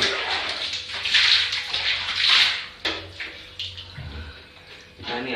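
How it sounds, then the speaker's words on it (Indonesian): Water is poured over bathroom tiles to rinse away loosened scale, splashing and rushing in two strong surges before thinning to trickles and drips, with faint voices nearby. "Kita siram lagi,"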